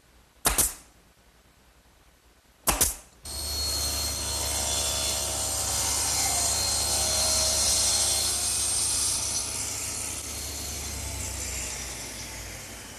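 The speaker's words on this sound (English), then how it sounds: "this panel cutter sure makes squaring up these big pieces easy" Panel cutter sawing through large wood pieces for a writing desk frame, two short bursts of the motor starting before a long, steady, loud cut that holds for about ten seconds with no talking.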